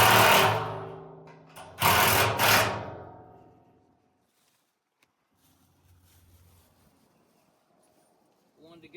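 A power driver whirs loudly in two close bursts, driving a screw with a washer down, before fading to near silence and faint background noise.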